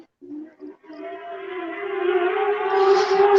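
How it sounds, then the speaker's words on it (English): A wailing siren rises steadily from a faint start to a louder, sustained tone, heard from a distance with no voices. "Speaking of cops, I hear sirens."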